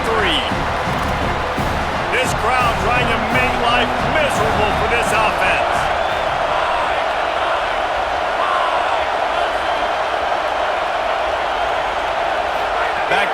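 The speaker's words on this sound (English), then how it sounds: "This crowd trying to make life miserable for this offense." Stadium crowd roars in the College Football 27 video game during a road matchup against Cincinnati, a loud, continuous rumble that swells early, with a commentator talking over it.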